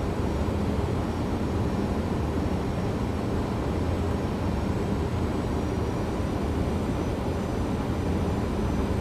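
Boeing 737-800 on short final in the X-Plane flight simulator, a steady broadband engine roar with airflow rumble, loud and unbroken, no speech.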